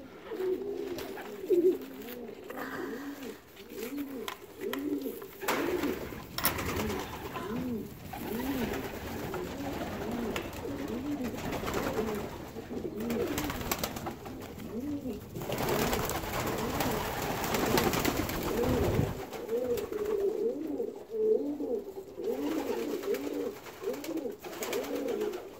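Pigeons coo continuously inside a loft, overlapping throaty calls from several birds that rise and fall throughout, with light shuffling and wing noise between them.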